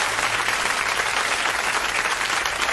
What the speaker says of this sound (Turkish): Mürüvvet ablamız için bir alkış efekti gönderelim hemen